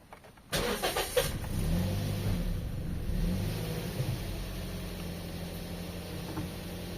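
A 2016 Toyota Vios with a fault that makes its idle drop cranks briefly and catches, then settles into a steady, close idle hum with slight fluctuations and no talk.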